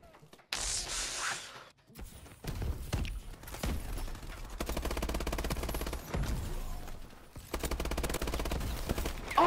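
Bursts of video game gunfire, loud and close, come in several stretches with short pauses between them, and heavy thuds and a steady rumble sit underneath.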